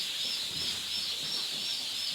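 Young Indian Runner ducklings keep up a dense, continuous high peeping chorus, close by and fairly loud, with no talk over it.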